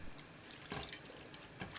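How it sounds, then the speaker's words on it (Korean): Kalguksu noodles rinsed in running water just before going into a clam soup, a steady faint wash of water with a couple of brief louder splashes, no voices. "칼국수 면을 물에 씻어 재빨리 생합탕에 넣어줍니다"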